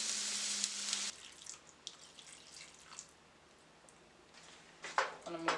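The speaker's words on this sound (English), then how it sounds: "I'm going to add some water." A hot pan with steaming fish and vegetables sizzles loudly as water is added, then the hiss drops to a quieter crackle with faint drips and stirring, swelling again briefly near the end.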